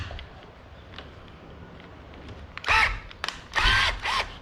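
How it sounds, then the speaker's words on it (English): A cordless drill with a nearly dead battery runs in short bursts after a quiet stretch, a strained, wavering whine that rises and falls over about two seconds, fairly close. "My drill is actually going dead."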